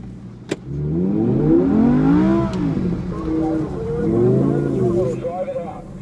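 An Audi quattro drifts on a race track, its engine revving and rising in pitch under sustained throttle, dipping briefly, then climbing again. The engine sound is loud and close, and a voice talks over it.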